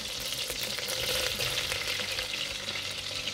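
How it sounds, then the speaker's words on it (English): Butter and diced onion fry steadily in a pan over medium heat for a chowder, a close, constant sizzle with faint stirring scrapes throughout and no talking. "Once the onion and the butter is cooking"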